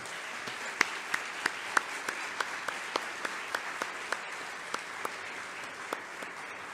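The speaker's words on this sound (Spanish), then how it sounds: "Recibamos con un aplauso" A small audience at an academic education talk applauds to welcome the speaker, Dr. Rosa María Torres Hernández. It comes as sparse, evenly spaced claps, fairly faint over a soft room hiss.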